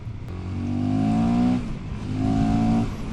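A Caballero 500 Rally motorcycle ridden hard through corners, its engine revving up in two rising, droning pulls with a brief drop between them, loud and close with no talk.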